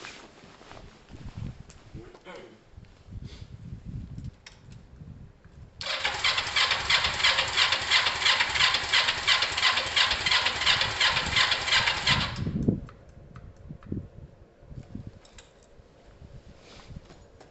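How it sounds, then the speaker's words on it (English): A Kawasaki ER-5 motorcycle, cold on choke after a carburettor rebuild, cranks and catches, then runs in a steady buzzing idle for several seconds before shutting off, with someone talking before and after. "You'll listen to the engine, you'll hear a note."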